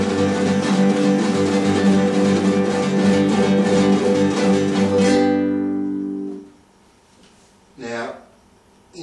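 Classical-style guitar played with a rasgueado rippling strum, fingers fanning out in a dense, sustained rolling flurry of chords for about five seconds, then ringing off into near silence before a brief spoken voice.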